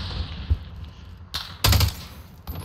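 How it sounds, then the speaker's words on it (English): Sniper gunfire in Call of Duty Modern Warfare during a Ground War match in Tavorsk District: a few sharp shots and heavy bursts, one loud crack near the middle, with quieter battle noise between them. "We're getting sniped from back there."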